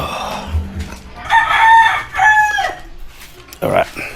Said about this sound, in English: Got a couple of chickens here.